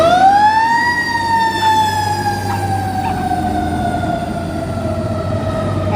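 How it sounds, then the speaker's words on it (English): A fire engine siren wails loud and close, its steady tone sliding slowly down in pitch as the truck with a hook and ladder crew passes, over a low rumble of traffic. "excuse us, we have a siren."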